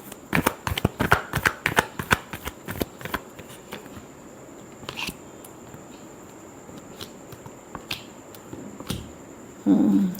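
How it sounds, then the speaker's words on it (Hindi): A deck of tarot cards is shuffled in quick riffling bursts over the first few seconds, then a few sparse card taps and slaps follow with quiet gaps, ending on a brief louder rustle. "Last shuffle."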